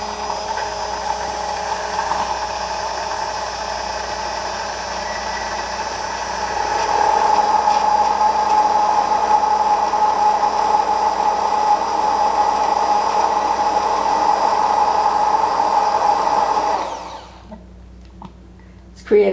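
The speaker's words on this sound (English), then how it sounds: "you'll notice that I'm going to move the blender up and down" An immersion blender whirs steadily while making no-egg mayonnaise, its pitch rising and growing louder partway through as it is moved up and down, then cutting off abruptly near the end.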